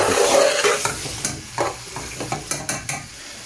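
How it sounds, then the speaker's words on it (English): Onion frying in a family-sized pot for lamb dhansak curry, a steady sizzle broken by several sharp stirring scrapes and clinks, close and fairly loud with no talking. "Now let it fry the onion for a bit, then I'm going to add the meat."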